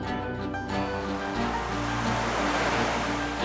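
Pacific Ocean surf breaking along the rugged California coastline, a loud continuous roar of waves and rushing water close by, with no voices.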